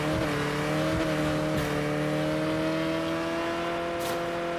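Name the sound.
car engine and driving sounds in a video game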